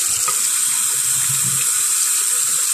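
Running tap water pours steadily over a Samsung CLX-3175FNK color laser printer's toner waste part being washed, a constant close splashing rush with no voices.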